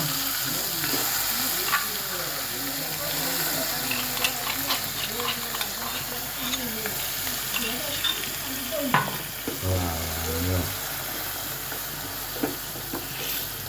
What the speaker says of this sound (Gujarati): બાજુમાં છે ને ચટણીનો વઘાર થાય છે